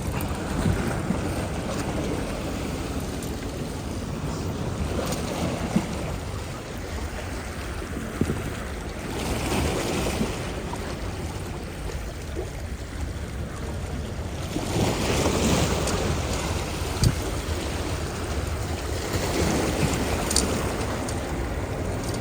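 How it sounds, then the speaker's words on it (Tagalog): Wind and choppy sea waves churn around a small fishing boat out at sea during a grouper fishing trip, a steady, loud, broadband rush with gusts swelling around the middle and near the end, no voices. "Pangit yung panahon guys maalon."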